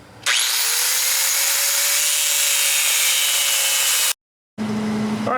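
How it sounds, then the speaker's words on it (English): A power tool cuts through a welded metal bracket on a mini bike with a loud, steady high-pitched grinding whine that holds for about four seconds, stops abruptly, then starts again briefly. "I'm gonna go ahead and try cutting this bracket right off here."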